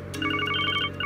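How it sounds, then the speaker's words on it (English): A phone in the video game Trails to Azure rings with a bright electronic trill in rapid repeated pulses over a low background hum, and no one speaks. "Interrupted by a phone call."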